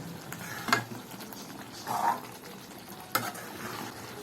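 Brinjal and field bean gravy simmering in a pan with its oil separated, giving a steady close sizzle and bubbling broken by a few louder scraping stirs of a spoon, with no talking.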